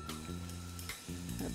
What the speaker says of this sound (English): I'm gonna put these mushrooms in.